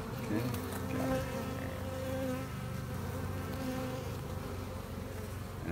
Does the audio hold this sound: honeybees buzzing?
yes